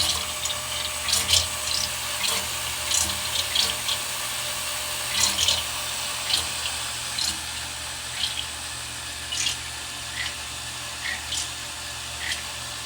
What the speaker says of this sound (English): you can hear that pump working?